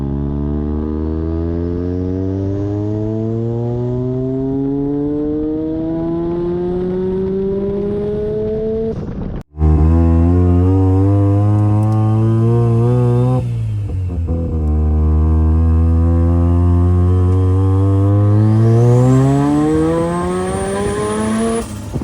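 Turbocharged bridgeport-ported rotary engine in a car making wide-open-throttle pulls at 8 to 11 psi boost, a loud, close buzzing wail that climbs steadily in pitch, breaks off briefly at a shift, then climbs again with no talking.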